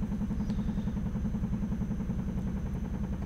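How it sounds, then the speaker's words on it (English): A laundry machine runs somewhere in the house, giving off a steady low rumbling, rhythmic clatter that holds at an even level throughout without any talk over it. "Sorry about that noise. Someone is doing the laundry."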